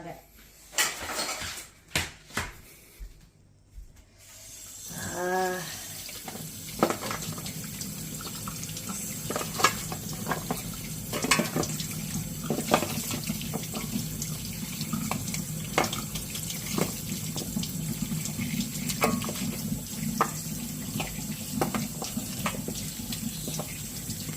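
Frozen jamun fruit is rinsed under a running kitchen tap, a steady splashing water stream into a sink that runs almost without pause, with a brief voice near the start.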